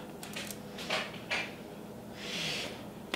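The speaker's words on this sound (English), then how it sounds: "Got a dog scratching at the door." Dog scratching at a door in a home kitchen: a few short, soft scraping strokes, then a longer brushing scrape, faint and close with no talk.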